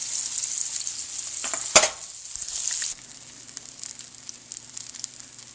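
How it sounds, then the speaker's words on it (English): Veal brains sizzle and fry in a frying pan, a steady close hiss of hot fat with a brief sharp crackle burst, then the sizzle drops to a quieter, softer level. "This is the second set of veal brain that I put in the frying pan."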